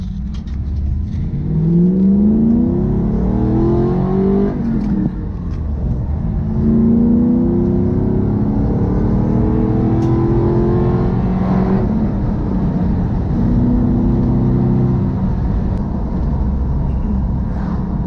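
A van fitted with a Toyota 1UZ V8 engine on a test drive on new tyres, repeatedly accelerating through the gears with a rising V8 roar, brief dips at each shift, loud and heard from inside the cabin.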